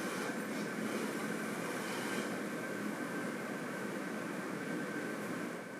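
Long distance train moving along the line, a steady, even rumble with a continuous hiss and faint hum, unbroken and fairly distant, with no voices.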